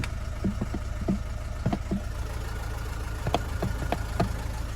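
A Mazda 6 with a broken oil pump chain and worn big end bearings, idling just after being started, a steady low engine drone with a rough, knocking rhythm and intermittent sharper taps.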